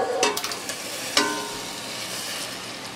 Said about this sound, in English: First you add the butter, and it starts, then add the tomatoes